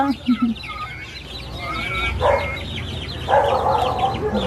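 Pet chickens clucking and calling in short bursts around a backyard, with someone talking and laughing over them and a dog-like yelp early on.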